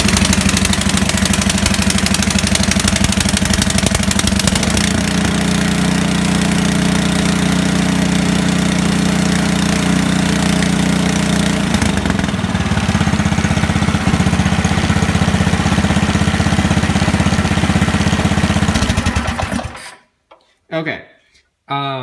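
Ariens snowblower engine loud and close, running steadily with a strong low drone for about twenty seconds before cutting off abruptly, leaving near silence.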